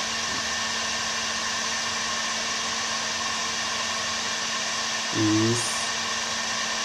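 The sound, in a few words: Bosch GHG 180 heat gun running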